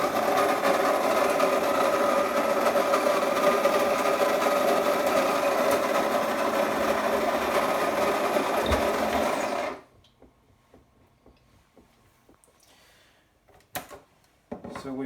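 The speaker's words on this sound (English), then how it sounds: "So for now we will grind only for 2 cups of coffees." A Klarstein espresso machine's built-in grinder milling coffee beans at a fine setting: a loud, continuous buzzing whir for about ten seconds that stops abruptly, followed by near quiet with a few small clicks and knocks.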